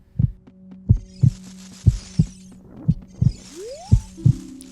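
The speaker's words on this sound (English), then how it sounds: "We gotta add the heartbeat again for anticipation." Heartbeat sound effect in Zelda: Ocarina of Time, a steady, loud, thudding lub-dub pulse repeating about once per second over a low hum, with a rising tone near the end.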